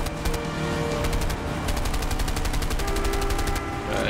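Rapid bursts of automatic gunfire crackle over a dense, constant soundscape in the game A Way Out, the shots coming in quick rhythmic volleys.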